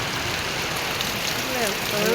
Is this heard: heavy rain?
yes